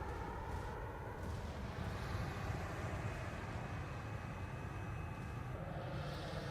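Jet aircraft engines in the naval game World of Warships give a steady, dense roar with a deep rumbling low end, holding at a constant loudness throughout.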